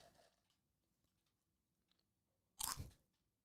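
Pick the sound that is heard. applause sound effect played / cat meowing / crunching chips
crunching chips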